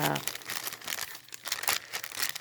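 A plastic deli bag crinkling and rustling as it is handled and cut for a junk journal craft, continuous close crackling with brief sharp snips, no talk over it.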